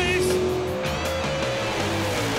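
A 1959 Chevrolet Corvette launching hard at a pass-time drag event, engine roaring loudly up close with a brief tyre squeal, while excited crowd voices and an announcer shout over it.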